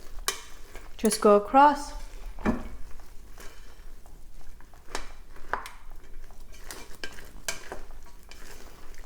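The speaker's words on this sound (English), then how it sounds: "The second part of cooking is fluffing it up." Freshly cooked Korean white rice being fluffed in a pot, with soft scraping and stirring scrapes of a utensil against the pot, brief clinks, and a voice speaking near the start.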